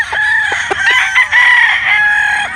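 A Sweater Boston gamecock rooster crows repeatedly at close range, its harmonic calls layered over more crowing and clucking from other fowl nearby.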